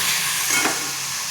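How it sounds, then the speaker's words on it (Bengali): Boiled ridge gourd fries in a pan with onion and tomato, giving a steady, loud sizzling hiss close up, with one brief stirring scrape in the middle. "এবার এটা একটু ভেজে নিই লাল লাল করে।"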